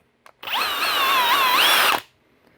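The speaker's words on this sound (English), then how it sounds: "you can also use them on your drill" Standard power drill spinning a small cleaning brush for round chambers like dowel pin holes, a short burst of steady high whine that ramps up, holds for about a second and a half, then stops, preceded by a faint click.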